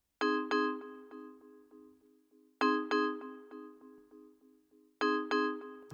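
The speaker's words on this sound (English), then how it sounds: "it gives you that African feel thing, like marimba sound" Three struck bell-like notes from an Afrobeat track made in FL Studio repeat in a pattern, each burst followed by quick ringing echoes that decay before the next strike; clear and close, marimba-like in tone.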